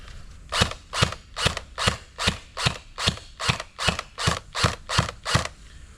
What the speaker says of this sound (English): now I'll do a few semi-auto shots just to hear how it sounds